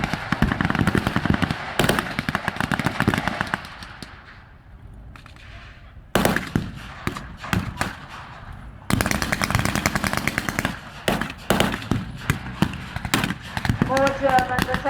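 Bursts of WW2 re-enactment gunfire, rapid automatic volleys and single shots, crack out in irregular clusters with a brief lull, while a narrating voice talks over much of it.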